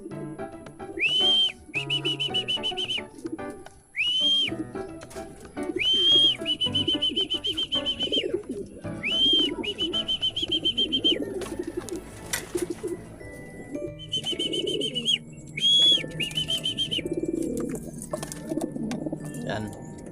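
Racing pigeons at their loft coo amid repeated bright, short whistles in bursts, with a person talking nearby throughout.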